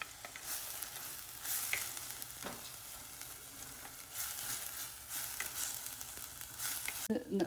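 Ginger sizzles and fries steadily in a pan with occasional scraping stirs, a continuous close crackle without speech, as it is cooked for a thick Kerala-style ginger curry.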